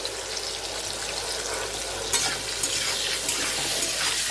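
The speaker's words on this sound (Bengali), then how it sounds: "লাল করে ভেজে নেবো আলুটা" Potatoes seasoned with salt and turmeric fry in a pan, giving an even, moderately loud sizzling hiss with a few brief crackles and scraping stirs, with no voices.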